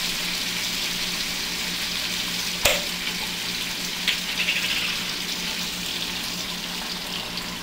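Tomato sauce poured into a pan of frying sausage gives a steady loud sizzle, with a sharp clink near the middle and a few small splashes afterward, no talking.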